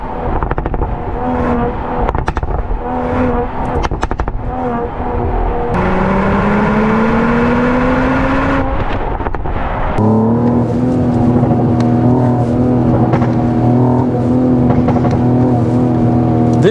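A 2024 Mercedes-AMG GLE 53 pulling hard at full throttle with the roof open, a loud continuous engine roar rising through the revs, then a gear change and a deeper, sustained drone from inside the cabin.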